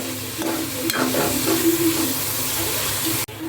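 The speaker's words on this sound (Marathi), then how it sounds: "गॅसची फ्लेम फास्ट ठेवून कांदा आपल्याला चांगला भाजून घ्यायचा आहे" Onions fry in oil over a high gas flame, loud continuous sizzling and hissing up close with stirring scrapes, cutting off abruptly just before the end.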